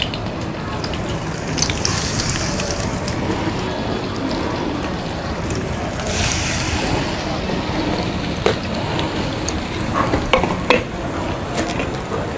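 Surmai fish shallow frying in a pan of hot oil, giving a steady broadband sizzle with occasional sharper pops and crackles throughout, close and fairly loud with no talking.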